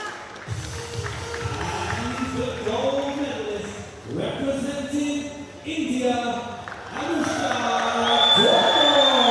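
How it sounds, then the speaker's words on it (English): An indoor crowd and fellow shooters cheer and applaud at a junior women's 50m rifle three-positions final in New Delhi. A commentator talks over the cheering, which swells in waves and grows louder toward the end. "not only from the crowd, but also from fellow athletes"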